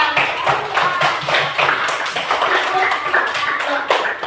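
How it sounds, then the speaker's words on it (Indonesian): A classroom of students claps together in an irregular, moderately loud burst that continues for a few seconds, with a close, echoey indoor quality. "Ya, tepuk tangan untuk Natasha."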